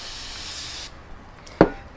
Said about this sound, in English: we're using non-chlorinated brake cleaner